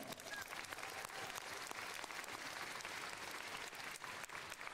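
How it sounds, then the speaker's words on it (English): Audience applause at a Ben Franklin school commencement honoring board members, a steady wash of many hands clapping at moderate distance throughout, with no voices over it. "Could we have a nice round of applause for them?"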